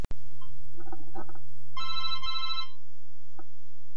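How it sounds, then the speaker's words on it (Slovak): An old-style telephone rings with a bright electronic trill over a low steady hum, followed by a short faint blip, close and clear with no talking. "Bože, zase ten telefón."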